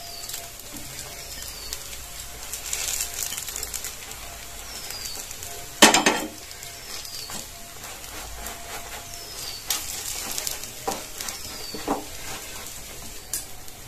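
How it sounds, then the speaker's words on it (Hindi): A cut bun toasting on a tawa over low heat, a faint steady sizzle with occasional scraping and utensil clinks, one sharp clatter midway, and birds chirping in the background. "इसी तवा में धीमी आंच करके ये जो कटा हुआ बन है उसको हल्का हल्का सा सेक लेंगे"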